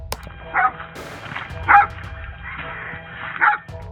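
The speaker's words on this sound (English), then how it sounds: "As they approached the home, A dog started barking" A pit bull barks outside a home in the evening: four loud, separate barks spaced roughly a second apart over a faint, steady background.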